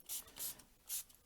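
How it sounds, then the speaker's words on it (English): Water is sprayed onto a craft table in three short hissing bursts from a spray bottle, close and fairly quiet, with brief pauses between them. "I'm going to spray it"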